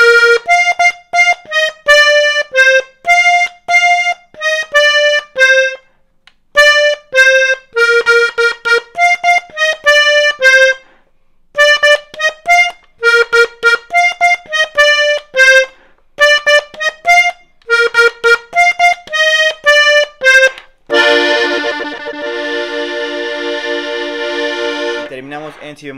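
A 31-button accordion plays the melody of a song as a fast run of reedy notes in octaves, with brief pauses, then ends on a long sustained chord. The playing is loud, close and solo.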